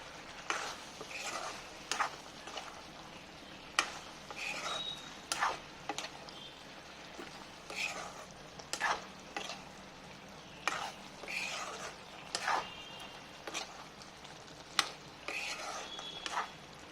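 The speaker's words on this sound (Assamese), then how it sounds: "এতিয়া নহৰুখিনি মই মাংসৰ লগত মিলাই দিম" Garlic is stirred into chicken in a pan, giving faint, irregular scraping clicks of a spoon over a low, quiet sizzle, with soft whispery sounds now and then.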